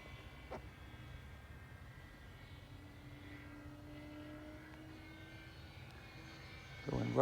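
RC model airplane engine in flight at about 40% throttle, a faint steady drone with a slowly shifting pitch, heard from a distance against outdoor background noise.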